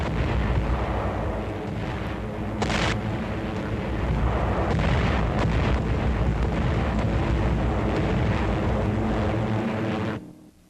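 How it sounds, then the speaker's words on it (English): A dense, continuous roar of heavy Royal Air Force bomber engines mixed with rumbling bomb blasts and booms over the port and U-boat base at Brest, loud throughout before cutting off abruptly at the end. "Planes of the Royal Air Force fly over the beleaguered port city of Brest to bomb the vital Nazi"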